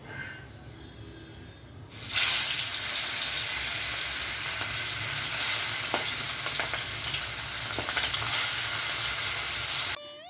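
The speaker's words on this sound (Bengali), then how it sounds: "ইলিশ মাছটা একটু লবণ আর হলুদ মেখে এবার এটাকে ভাজা বসিয়ে দেবো" Hilsa fish coated in salt and turmeric frying in hot oil, a loud, dense hissing sizzle that surges in after a quieter start and runs steadily with occasional pops.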